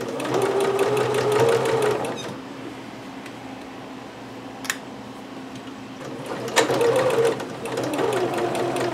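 A sewing machine stitches a neck binding seam just left of the basting on a Butterick 6322 garment, running steadily in two close, loud bursts separated by a quieter pause.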